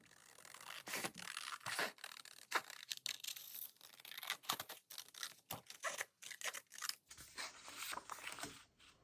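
Scissors snip through paper in quick irregular cuts while an envelope journal is made, each crisp cut close and fairly quiet, with short pauses between bursts.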